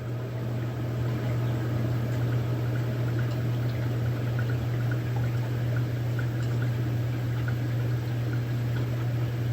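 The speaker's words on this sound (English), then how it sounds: "of what I'm hearing in the background, which is a faucet running" Water runs from a faucet in a constant, even hiss that continues unbroken throughout, steady and moderately loud over a low electrical hum, with no voices.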